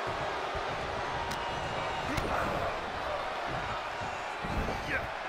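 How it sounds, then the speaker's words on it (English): Arena crowd in the WWE 2K23 wrestling video game roars steadily and loudly throughout, with sharp impact thuds and a commentator's voice over the din. "The sound of this crowd is deafening, and he's asking for more."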